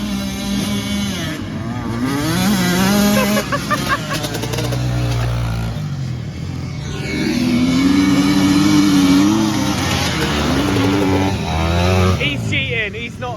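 Mini bikes and motorbikes race a three-lap dash from a staggered start, engines revving and rising and falling in pitch as they pass close by, loud throughout with people talking over the noise.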